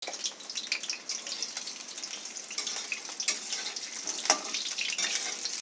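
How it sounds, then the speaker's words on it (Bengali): Potatoes fry in hot oil with a continuous close crackling sizzle and occasional louder pops, heard alone without any voices. "তো তেলটা গরম হয়ে এসছে, এবার আমি আলুগুলো আগে ভেজে নিই।"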